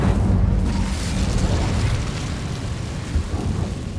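Fire spell cast in Hogwarts Legacy, a dense, roaring whoosh of flame with a heavy low rumble that fills the whole moment loudly and steadily, easing only slightly toward the end.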